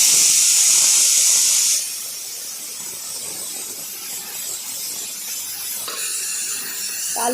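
A pressure cooker of boiled potatoes, after three whistles, lets out a loud sharp hiss of steam on release, which drops to a softer steady hiss that lingers alone.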